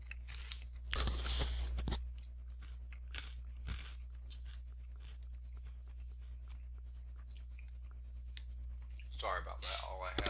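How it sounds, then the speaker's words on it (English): Crunchy Goldfish crackers eaten close to the mic in a classroom setting, a dense burst of loud crunching and chewing for about a second, then quiet room tone, with more crunching near the end. "All I had were goldfish and they are crunchy"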